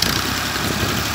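A farm tractor engine runs steadily at close range, a continuous low rumble with a rough mechanical vibration throughout, holding an even level with no voices.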